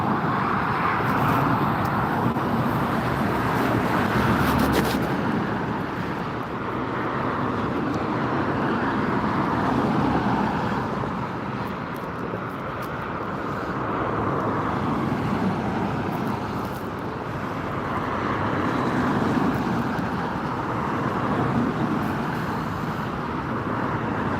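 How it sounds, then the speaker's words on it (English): Steady wind buffets an outdoor camera microphone at a plane-spotting spot near LAX airport, a broad rumbling roar that swells and eases in slow gusts, with distant traffic and aircraft noise blended underneath. "so breezy that it's actually blowing the camera around"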